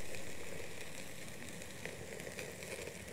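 A tomahawk steak with butter sizzles on a new barbecue at a camping spot in Malta, giving a steady, fairly quiet hiss and crackle with small pops and no talk.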